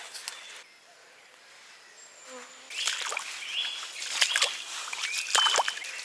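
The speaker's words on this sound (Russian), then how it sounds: "Смотрите, сколько комаров." Faint, thin mosquito buzzing drifts close by in a quiet outdoor fishing spot on the Dnieper, with scattered soft rustles and brief louder whines passing near.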